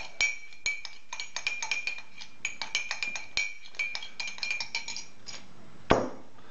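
Metal utensils stir a broccoli-stalk dish, giving a steady run of close, bright clinks and scrapes against the bowl, closing with one louder knock near the end.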